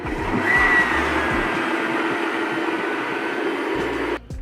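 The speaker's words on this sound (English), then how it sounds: "So I put 5 scoops of Gigantor into the blender here. So I'm just gonna go on low here." Blender on its low setting mixing five scoops of protein powder, a steady whirring drone that runs loud and continuous before cutting off near the end.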